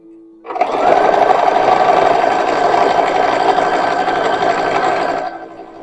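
A sewing machine stitches a hat lining for a 1920s-style hat in one continuous loud motorized whir that starts abruptly and runs about five seconds before stopping, heard alone up close.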